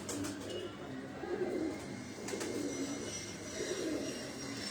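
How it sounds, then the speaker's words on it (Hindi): A male Lakha pigeon coos softly nearby, giving a few rounded, throaty bursts at a gentle, repeating pace over a quiet background. "ये वासे भाई बता रहे हैं कि ये लाखा कबूतर है, नर है ये।"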